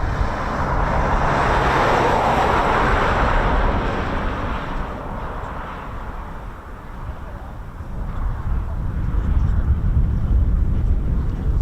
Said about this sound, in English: This is the Embraer ERJ145, and it will go to Lossiemouth and it will go back to Warton Aerodrome.